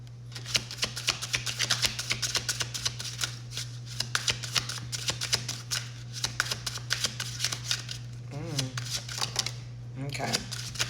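Cards from a luminescent oracle deck are shuffled steadily and close by, with a dense run of soft riffling flutters and a low constant hum underneath, broken by a few quicker swishes near the end.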